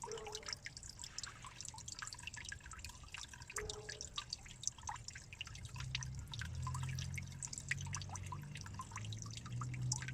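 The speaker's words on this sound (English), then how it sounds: "there's water falling in there a little bit" Water falling and dripping into a backyard fish pond, heard as faint, scattered drips over a steady low trickle, with a soft low hum rising later.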